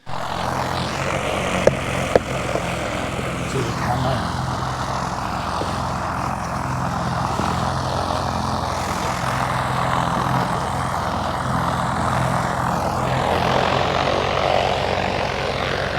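A paramotor engine runs steadily at throttle during a paragliding takeoff, giving a loud, continuous propeller drone that holds for the whole stretch and swells slightly near the end.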